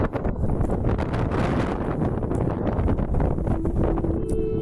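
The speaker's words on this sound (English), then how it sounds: "It's much windier than 10 miles an hour up here." Strong wind buffets the microphone on an exposed hillside during a wild camping trek, a continuous loud, gusty rumble with no voices.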